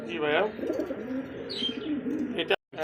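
Giribaz high-flyer pigeons, a red-patterned male and female pair, coo in low, rolling murmurs close by, broken by a brief chirp, while a person talks over them.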